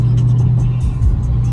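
A 2020 Dodge Charger 392 Hemi Scat Pack rumbles through its exhaust while driving, a loud, steady low engine drone with a slight dip and swell as the throttle lifts.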